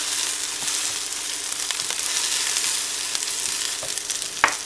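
Meat browns in a pan for hachis parmentier with a dense, constant sizzle and crackle, scattered spatters and a few spoon scrapes, one louder clack near the end, no talk.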